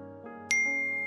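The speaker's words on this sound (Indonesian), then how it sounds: "Notif pesan masuk." A phone sounds an incoming message notification, a single bright chime that rings out sharply and lingers over a soft musical bed.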